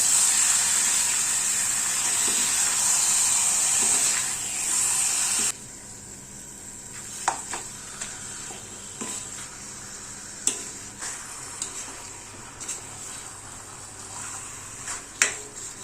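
Mutton pieces stirred in a pan for Kerala-style mutton curry: a loud, hissing sizzle for the first few seconds, then scattered clicks and scrapes of a spoon against the pan over a quieter frying background, without talk.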